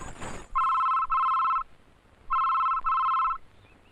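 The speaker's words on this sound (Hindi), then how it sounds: "जानकी, जानकी तुम्हारे भैया का फोन आया है।" A telephone rings indoors in two double bursts, each pair of bright electronic trills separated by a short quiet gap, fairly faint against a quiet background.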